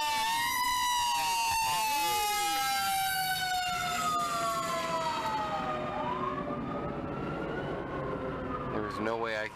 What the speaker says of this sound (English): You're like, screw it. It's a siren.